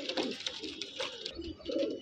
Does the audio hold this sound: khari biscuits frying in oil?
no